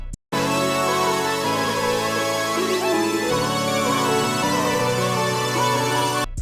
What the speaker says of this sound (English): Altogether, the melody sounds like this.